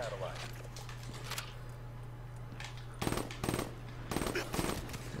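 Rapid bursts of gunfire in an Uplink 2v2 shooter match, two dense clusters of shots after a steady background drone, with a voice mixed in.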